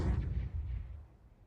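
A flashbang grenade goes off in Counter-Strike during a Hellcup 10 playoff match, a dull low-heavy burst that thuds close and loud, then rolls off into a fading rumble over about a second.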